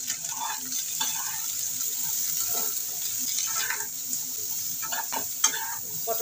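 Pointed gourd fries in a pan with turmeric, a steady sizzle broken by spatula scrapes and a few sharper clinks near the end, moderately loud and free of speech.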